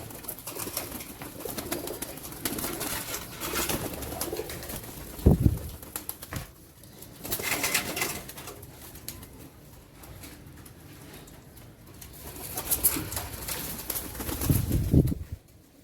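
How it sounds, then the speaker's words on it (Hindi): Pigeons cooing in a loft, soft low coos repeating through a few louder passages with brief wing flaps, close by and without talking. "ये ज़्यादातर अपने उस्तादों के ही कबूतर रखते हैं।"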